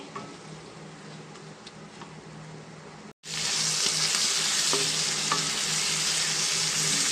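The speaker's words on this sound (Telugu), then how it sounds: "ఆల్రెడీ ఫ్రై చేస్తున్నాను కదండి ఆనియన్స్" Onions fry in hot oil for a prawn biryani curry, a steady close sizzle that breaks off briefly, then returns much louder and brighter as stirring continues.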